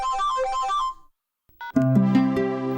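A phone ringtone plays a bright electronic melody, stops for about half a second of silence, then starts again louder and fuller, close and alone in a domestic TV serial scene.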